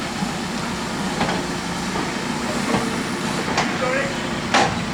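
A Severn Valley Railway train backs into the station at Bridgnorth, giving a low rumble with a few sharp metallic clanks and knocks. Faint voices can be heard in the background.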